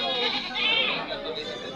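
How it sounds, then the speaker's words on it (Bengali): Goats bleat at a busy livestock market, several overlapping cries close by under people talking. "এই পাশটাতে দেখেন না কি পরিমাণে ছাগল আপনারা কিনে রেখেছে ওনারা"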